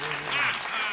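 Audience applause at a live Bulgarian TV comedy talk show, a steady wash of clapping that fills the whole second with a faint tonal voice trace underneath.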